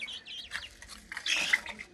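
Young cock-breed chickens about 35 days old, first bought as broiler chicks, give soft, quick chirps and clucks while pecking at leafy greens, close by, with a louder cluster near the end.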